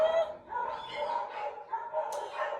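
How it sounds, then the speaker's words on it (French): Dogs bark and yip close by in a quick, continuous run of high whining yelps that rise and fall without a break. "Oh, les chiens!"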